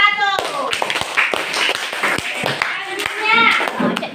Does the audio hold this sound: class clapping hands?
yes